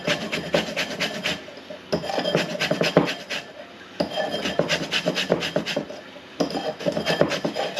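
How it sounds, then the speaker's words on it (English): Lemons being zested by hand for a lemon meringue pie, a steady rasping scrape of peel against a grater in repeated bursts, close and fairly loud, with brief pauses between runs of strokes. "we're going to zest and juice these lemons straight"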